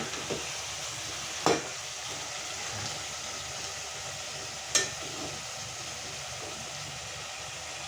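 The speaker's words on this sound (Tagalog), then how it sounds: "Ginigisa na natin." Chicken for a homemade chicken masala is sautéing in a pan, giving off a soft, steady sizzle. Two sharp scrapes or knocks from stirring stand out briefly, and no one speaks.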